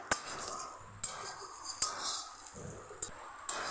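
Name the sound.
stirring bitter gourd with coconut in a pan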